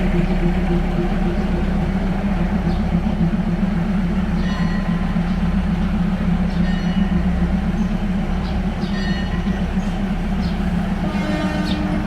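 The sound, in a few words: train at Bang Sue station, Bangkok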